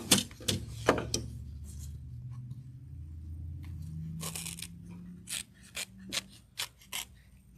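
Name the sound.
curved scissors trimming fabric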